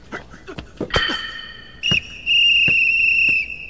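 A referee's whistle in an anime basketball game, blown for a foul, sounds as a short shrill blast and then a long sustained piercing tone, loud and clear amid a few sharp knocks, with no voices.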